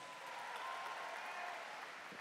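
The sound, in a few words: audience applause for debate team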